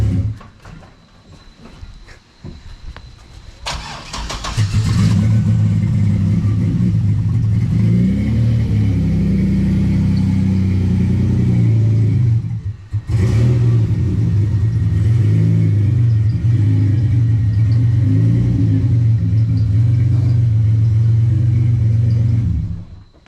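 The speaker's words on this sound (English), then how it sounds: "Gotta love that cold start revving to like 5K to burn the clutch out" A supercharged Pontiac Bonneville SS 3800 V6 cold-starts after some clicks and revs to about 5,000 rpm, settling into a loud, steady high idle, with a brief dip before roaring up again.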